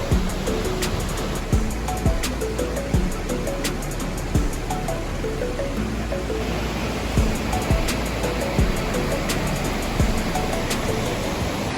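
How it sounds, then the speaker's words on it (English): Virginia Falls, a waterfall in Glacier National Park, roars in a steady, loud broadband rush, with a few faint thuds and knocks passing in the foreground. "I have this beautiful waterfall here."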